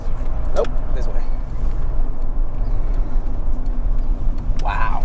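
A right-hand-drive JDM car cruises at speed, giving a steady droning engine and road rumble with a faint tonal whine, while people in the cabin talk briefly over it.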